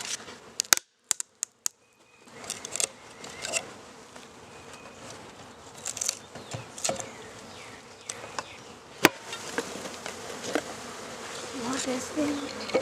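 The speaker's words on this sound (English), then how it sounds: "there's a ton of bees, worker bees in there with the queen" Honey bees, Italian and Russian, buzzing in a steady hum around a queen cage during hive installation, with scattered sharp clicks and knocks, close by, continuing throughout with brief quiet gaps near the start.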